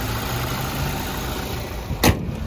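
A 2017 Toyota Hilux SR engine idles steadily with a smooth, even rumble close by, broken near the end by one short sharp knock.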